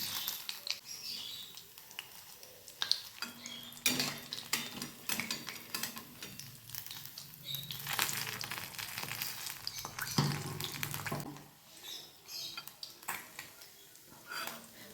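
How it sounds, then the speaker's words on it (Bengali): Steady sizzling of fresh pabda fish frying in hot oil, with occasional clinks and scraping of a utensil against the pan; no one speaks. "ঠিক এই রকমভাবে আমরা দ্বিতীয় দিকটি ভেজে নেব"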